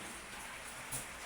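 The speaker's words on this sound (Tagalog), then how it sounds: "Ulan." Rain falling outdoors after a badminton game, a steady soft hiss of drops on surfaces, fairly faint and even, with no talk.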